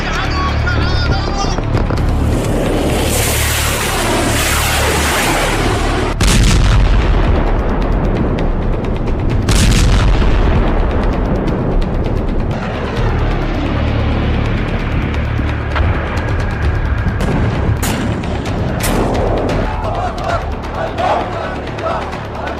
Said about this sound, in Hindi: तेल टैंकर में धमाका, हूथी का खूनी हमला।